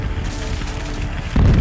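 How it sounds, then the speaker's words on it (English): Heavy cannon fire from Union timberclad gunboats at the Civil War Battle of Shiloh, a sustained low rumbling barrage that swells into a louder, closer boom near the end. "Heavy cannon fire from the Union timberclads, Tyler and Lexington, pesters the Confederate lines and keeps them at bay."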